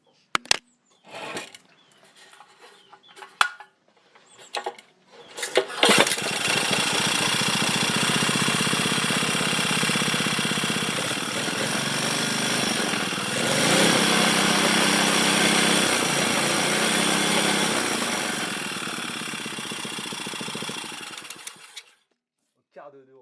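Small Honda engine with its air filter missing. A few knocks and handling noises come first, then it fires at once and runs loud and steady with a buzzing drone for about fifteen seconds before stopping.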